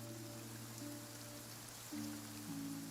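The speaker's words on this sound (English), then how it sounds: "It's raining. You're right." Rain falls in the video game Genshin Impact, a soft, steady patter of drops that runs throughout, with sustained tonal game music humming underneath.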